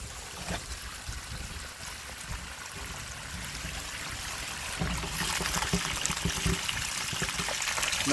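Dirty carpet-cleaning water is dumped onto grass in a steady, noisy rush that keeps pouring for several seconds and grows louder and fuller toward the end.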